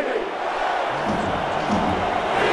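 A sellout football stadium crowd of over 70,000 roars on third down and long, a dense, continuous wall of cheering that swells slightly toward the end.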